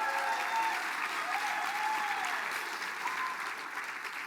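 A crowd claps steadily for a student band at a community event, with a broad even wash of applause that holds throughout and eases slightly near the end, no speaking over it.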